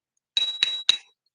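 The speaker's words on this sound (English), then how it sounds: "yeah, it's a bell. It's written Power Slide on there. So definitely like a finger bell" A small Powerslide finger bell mounted on skates, struck three times in quick succession, each strike giving a bright, close metallic ding with a clear sustained ring that fades after the last hit.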